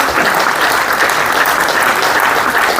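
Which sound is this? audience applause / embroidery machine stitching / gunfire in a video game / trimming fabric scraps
audience applause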